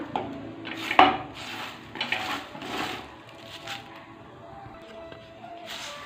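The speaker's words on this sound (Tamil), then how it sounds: "நீங்கள் சேர்த்துட்டு நல்லா வறுக்கணும் இது கூட சேர்த்து இதையும் நல்லா வறுத்துக்கலாம்" Dried henna leaves stirred and roasted in a pan at home, giving soft scraping and rustling with a clink of utensil on metal near the start, faint and close, with no talk.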